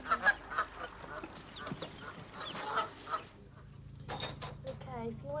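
A mother duck with an injured leg and her ducklings calling at a wildlife rescue, with soft repeated peeps and quacks, fairly faint and mixed with low background noise and some voices.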